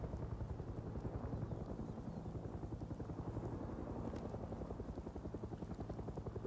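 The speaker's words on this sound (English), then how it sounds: "Chopper coming in." A helicopter in the video game Far Cry 6 approaches with a steady rhythmic rotor chop and engine whine, continuous and moderately loud throughout, no voices over it.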